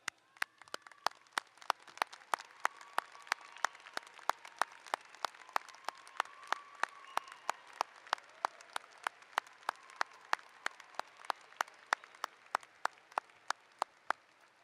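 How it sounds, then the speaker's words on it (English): An audience at Yeshiva University's 2018 commencement claps for the graduating students. Sustained applause carries a steady, sharp near clap beating out a regular rhythm above the softer crowd clapping. "have asked them to all please rise and for all of us to join me in applauding them"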